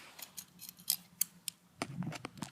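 Scissors snip through looped Stihl string trimmer line, a series of faint, crisp clicks and snips close up in a quiet room.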